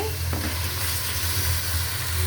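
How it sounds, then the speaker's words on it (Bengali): Fried chicken pieces going into a hot pan with tomato and sugar, giving a steady close sizzle and frying hiss with a brief stirring clatter near the start, no voices. "আমি আমার সে ভাজা মুরগিটা দিয়ে দিতেছি"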